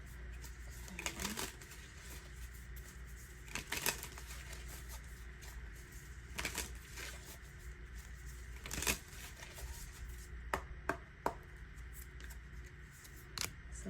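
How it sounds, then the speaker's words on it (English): Tarot cards shuffled by hand, a continuous soft papery rustle with repeated sharper riffles and slaps, close and fairly quiet with no talking. "I just start shuffling the cards, putting them in their piles"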